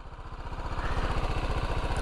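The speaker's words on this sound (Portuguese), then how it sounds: "Motor muito girador mesmo" A BMW G310 GS single-cylinder motorcycle engine revs up from a steady idle into a rapid, buzzing, pulsing rise, close and clear, with no talking over it.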